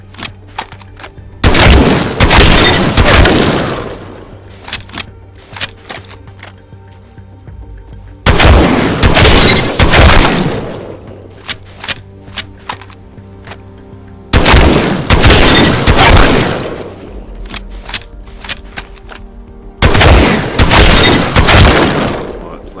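Mastiff shotgun blasts in Apex Legends come as four loud, evenly spaced booming volleys, each one ringing out over several seconds with scattered sharp clicks between them.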